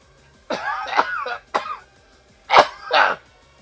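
A person coughing and clearing their throat while playing a Pokémon video game, several short harsh bursts in two clusters, close and loud with quiet gaps between.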